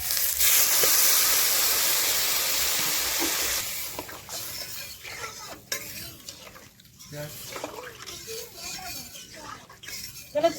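Water poured into fried spices for a fish curry, a strong hissing burst that fades into quieter bubbling and spoon stirring against the pot, with a voice now and then.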